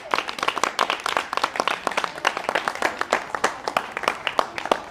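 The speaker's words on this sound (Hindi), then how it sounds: "इनको बोलना पड़ता है ताली बजाने के लिए" Children in a classroom run by a police officer who teaches poor slum kids clap together in steady, fairly close applause with sharp overlapping claps throughout and no talk.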